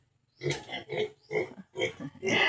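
Four farm pigs grunt close by in five short, rough bursts, each about a quarter to half second long, after a brief silence.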